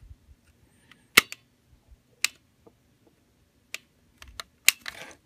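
Sharp mechanical clicks from a toy robot's chest lever and cassette tray, a handful of crisp isolated snaps spaced irregularly, with a final rattly pop as the tray springs forward, close and clear with no talking.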